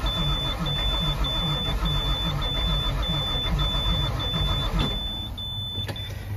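A swapped engine idles with a lopey, uneven rhythm, running steadily and close throughout with a periodic pulsing, with no voices.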